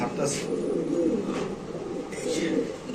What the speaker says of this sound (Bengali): এই দেখেন দর্শক মাদির কবুতর একদম ডিব্বার মতো গোল